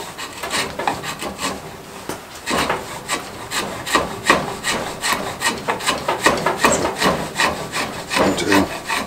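A steady run of rough, rasping wood strokes as a blade shaves chips off a wooden hammer handle, close and fairly loud, with an uneven working rhythm and no talking.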